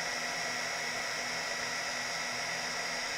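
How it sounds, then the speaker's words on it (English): Heat tool melting embossing powder gives a steady, close, even blowing whir that holds constant throughout with no talk. "I will just heat this. And I will heat it from the back."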